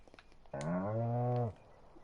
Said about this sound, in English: Brown cow.